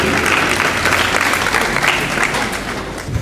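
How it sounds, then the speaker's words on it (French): Audience applause for a speech at a university semi-final competition event, a steady dense burst of clapping throughout, fairly close and loud, with no talking over it. "Veuillez l'applaudir s'il vous plaît pour son discours."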